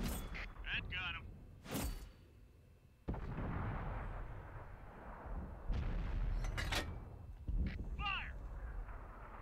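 Tank cannons boom in a tank battle video game, a few loud sharp shots with rumbling engine noise underneath and crow-like game effects between them.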